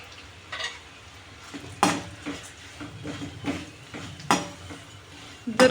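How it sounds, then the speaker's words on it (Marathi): Raw poha is stirred into a pan of roasted peanuts, the spoon scraping and clinking against the metal in irregular strokes over a faint sizzle, fairly quiet and close. "आता ह्याच्यात मी पोहे घालत आहे."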